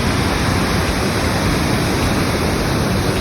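A powerful waterfall pours heavily beside a hot spring at Segara Anak lake, giving a loud, continuous broadband roar of crashing water that stays steady throughout with no voices.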